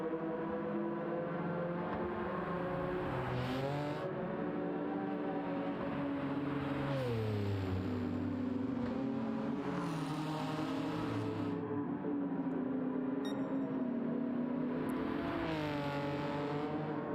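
A built-up, Baja-style Porsche race car in Gran Turismo 7 revs hard, its engine pitch climbing and dropping through repeated gear changes, loud and close over a steady roar, with no talking.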